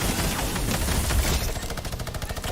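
Rapid automatic gunfire from a sentry shooting back in Minecraft, a loud dense burst of shots that continues as a fast, evenly repeating stutter through the second half.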